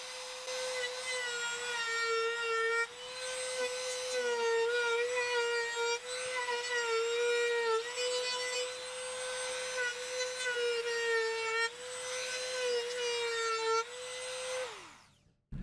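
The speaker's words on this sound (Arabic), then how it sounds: "نجيب كمان بقى الراوتر استحلاب الدحلاب ونديها 1 شطفة لكل الحروف" A woodworking router chamfers the edges of wooden parts for a DIY portable beach chair, a loud steady high-pitched whine running for about fifteen seconds with slight pitch dips as it cuts, then spinning down abruptly at the end.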